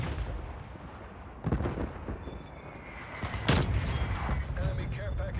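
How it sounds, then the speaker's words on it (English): Artillery strike in the shooter game Black Ops Cold War, with booming blasts and crackling gunfire rolling over a busy battlefield din, the loudest burst landing near the middle and smaller impacts continuing after it. "Artillery inbound."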